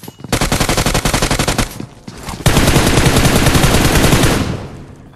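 Loud automatic gunfire in PUBG Mobile rattles in rapid bursts, then, after a short gap, in a longer sustained stream, close and dominating.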